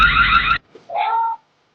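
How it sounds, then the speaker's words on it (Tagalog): A TP-Link Tapo C125 home security camera sounds its sample alarm: a loud, harsh electronic buzz lasting about half a second, a brief gap, then a shorter wavering siren-like tone before silence. "Ito yung sample alarm niya."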